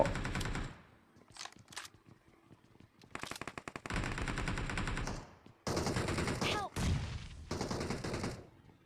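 Loud bursts of gunfire and explosions from a PUBG Mobile match come in rapid automatic volleys separated by short gaps, close and harsh, with no talking.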